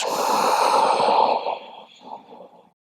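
A single long, breathy exhale during a slow yoga flow, loud and close at first, then trailing off into softer, broken breaths before stopping.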